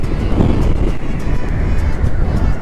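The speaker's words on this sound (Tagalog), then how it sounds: "Ang lakas ng hangin!" Heavy, steady wind roar buffets the microphone while riding a motorcycle, a constant low rumble with gusty surges from moving fast outdoors.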